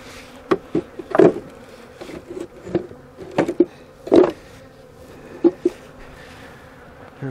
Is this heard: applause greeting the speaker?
no